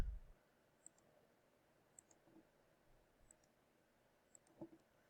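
Sharp, quiet mouse clicks sound one at a time at irregular intervals, spaced about a second apart against a near-silent background, while trimming lines in a CAD drawing.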